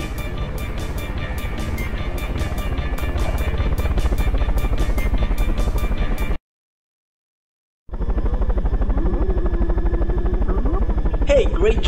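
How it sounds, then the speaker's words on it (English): Helicopter rotors in the VR game Mosh Pit Simulator, a loud steady whirring drone with rhythmic blade chop, cutting out into silence briefly before resuming. "that's a beautiful helicopter. Now get on it to get out of here."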